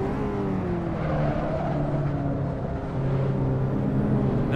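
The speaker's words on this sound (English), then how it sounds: "So I'm gonna downshift in this corner." Car engine droning steadily in the Assetto Corsa racing game, a loud continuous whine whose pitch slides and steps as gears drop through a corner.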